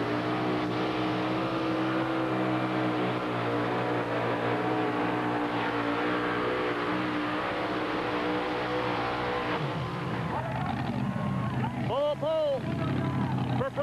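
A 2WD pulling truck engine revs at high, steady roar while dragging a sled, loud and sustained, then bogs and rises again near the end, with an announcer talking over it.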